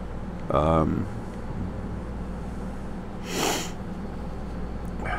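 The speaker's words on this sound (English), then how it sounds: "Sniffling big time here." A couple of sharp nasal sniffs, one early and one a few seconds later, close to the microphone over a low background hum.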